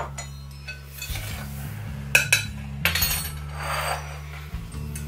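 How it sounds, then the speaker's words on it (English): Dry French onion dip mix and sugar being stirred, with a few sharp clinks and scrapes of a utensil against a bowl over a steady low background hum. "Now, we're gonna stir all that up."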